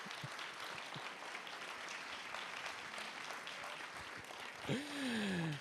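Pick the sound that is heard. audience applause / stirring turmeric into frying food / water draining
audience applause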